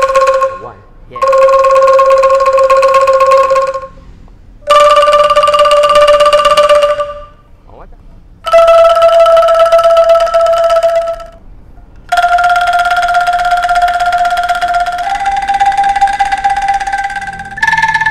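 Angklung bamboo rattles shaken during a workshop, producing bright sustained tremolo chords in four long bursts separated by short pauses, each holding a steady pitched tone; a voice speaks briefly between shakes.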